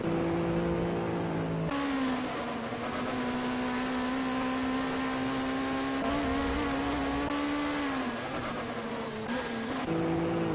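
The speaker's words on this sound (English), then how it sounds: "Looked like Tomas a little bit off the track there. Allowed Petrol to pull by in his SLS" Simulated GT3 race cars lapping Mugello in a racing video game: a steady, loud engine drone with harmonic whine holds a constant pitch, shifting slightly around gear changes, with no talking.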